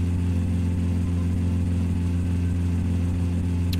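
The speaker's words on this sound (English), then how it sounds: "Yeah, some suspect noises coming from the engine here." Car engine in the driving game My Summer Car, running with a steady low, droning hum and constant harmonic tone, loud and continuous throughout with no speech over it.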